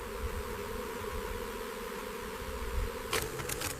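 A dense, steady buzz of a honeybee swarm around a hive being raided by a honey badger in the African savanna, droning continuously with a few sharper passes of individual insects near the end.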